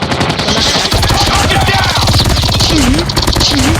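Loud, rapid automatic gunfire rattles continuously in close, dense bursts with a few whooshing effects mixed in.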